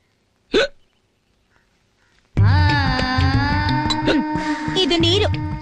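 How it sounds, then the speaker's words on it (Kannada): A single sharp hiccup from a person eating idli at a meal in a 2008 Kannada action film, followed after a pause by background music and overlapping talk. "ಇಲ್ಲ ಬಿಕ್ಕಳಿಕೆ."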